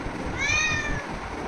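A tiny kitten gives a single thin, high meow, faint and brief against a steady background hiss.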